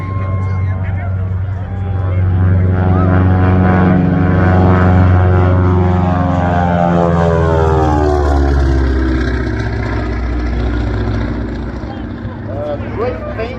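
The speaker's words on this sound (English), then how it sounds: "Dave Hewitt banking the aircraft around for its first pass from the right." A Beechcraft Expeditor propeller aircraft passes at an air show in Debert. Its loud, throbbing engine drone swells, peaks close by, then fades with a falling pitch, and an announcer speaks over it.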